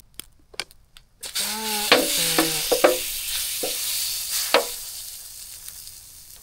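Food sizzles and fries in a pan while being stirred, with a loud spoon scrape and clatter starting after a quiet opening, then a steady hiss with occasional clinks.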